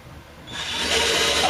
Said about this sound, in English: It helps if I turn the drill in forward position